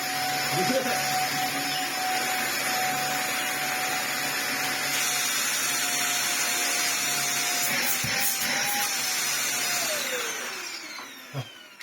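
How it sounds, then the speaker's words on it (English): A Dyson DC25 upright vacuum cleaner runs with its brush roll spinning, a loud steady motor whine holding constant before winding down near the end, with no talk over it. "The brush roll spins."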